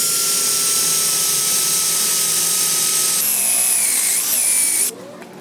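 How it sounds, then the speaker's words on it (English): Big power drill boring a hole, a steady loud whine with a constant tone that jumps to a higher pitch partway through, then cuts off abruptly near the end. "So I'm going to start drilling a hole."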